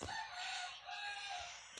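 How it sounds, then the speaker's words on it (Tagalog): Chickens cluck and a rooster crows at a distance, faint and continuous, with a couple of soft knocks in the background. "Yung mga manok. Ingay."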